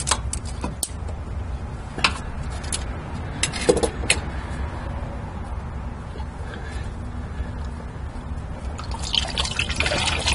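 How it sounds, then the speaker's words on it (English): Engine oil drips and trickles steadily from a car's drain plug into a catch pan during an oil change, a continuous close liquid patter with occasional louder drops. "position the pan there so it'll keep catching the oil from the drain plug while I take the filter off"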